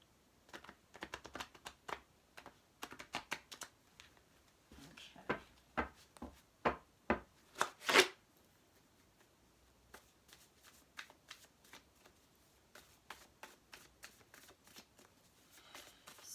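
Tarot cards are shuffled and flicked in a rapid series of crisp riffling bursts, building to a sharp peak, then lighter scattered flicks and taps follow close by, with no talking.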